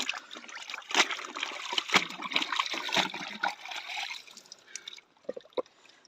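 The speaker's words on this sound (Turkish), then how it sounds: "Zaten yukarıdan şimdi suyu vuracağız." Water sprayed from above splashes and trickles steadily onto a creek bed during gold prospecting, a close, continuous wet hiss that thins into scattered drips and dribbles near the end.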